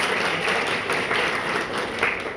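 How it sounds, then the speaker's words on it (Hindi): Audience applause at an award ceremony at an inter college in Khalilabad, Sant Kabir Nagar: dense, steady clapping from a crowd throughout, fairly loud and continuous with no break. "इसके लिए बधाई के पात्र में एक बार तालियों से स्वागत करें।"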